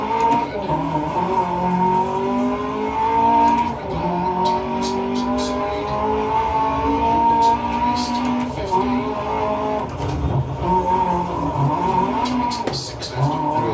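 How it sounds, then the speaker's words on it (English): Lancia Fulvia rally car in Dirt Rally 2.0 spinning its wheels, a revving engine whine rising and falling with tire scrabble and gravel hiss, loud and close throughout. "Bit of wheel spin there."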